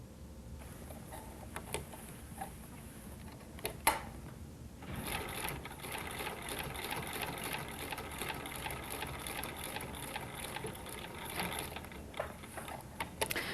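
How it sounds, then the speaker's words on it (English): A sewing machine stitches each side of a sweatshirt placket, running in a steady mechanical whir close by, with a brief pause and a few clicks near the start before the continuous stitching takes over. "we can then sew each side of the placket into place"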